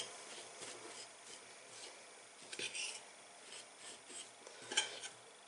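A spoon stirs a cookie filling of powdered sugar in a bowl, giving faint, intermittent scraping and rubbing with a few light clinks against the bowl, quiet and close.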